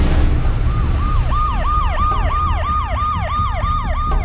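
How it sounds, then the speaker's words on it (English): A loud, close ambulance siren wailing in a fast repeating up-and-down pattern, over a low engine rumble. "Bobby, I got an ambulance on the way"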